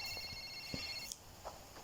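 A mobile phone rings with a steady electronic tone, fairly faint and continuous in a room with a few soft knocks and rustles and no talking.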